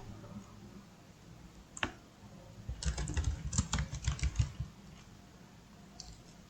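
Computer keyboard used to type MATLAB code: one sharp click, then a quick dense burst of keystrokes mid-clip and a few light taps near the end, close and clear with no talking.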